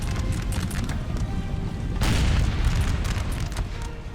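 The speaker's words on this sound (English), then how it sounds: "Pretty much the entire Spanish line is firing into their backs." Massed musket volleys roll across a battlefield in the game Napoleon: Total War, a dense, continuous rumble of overlapping distant gunfire that swells to a heavier burst midway.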